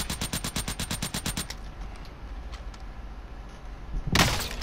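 Rapid automatic gunfire in a military shooter video game, a tight burst of evenly spaced loud shots for about a second and a half, then quieter ambience with distant pops and a final loud blast near the end.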